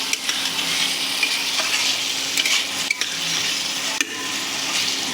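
Catla fish curry sizzles and fries in a pan while being stirred, a bright steady hiss with occasional scraping strokes of the spoon, close and alone without talk.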